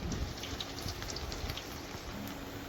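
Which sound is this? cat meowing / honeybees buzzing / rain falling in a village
rain falling in a village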